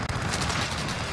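Rapid automatic fire from a Kilo 141 rifle in Modern Warfare, a dense, loud burst of gunfire lasting about a second.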